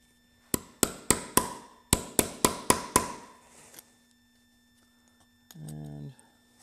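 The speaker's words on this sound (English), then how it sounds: "Grab my hammer." Sharp metallic hammer strikes on a punch tool ring out in two quick bursts of about four and five blows, setting a snap on a boat top, close and loud, followed by a brief low buzzing sound.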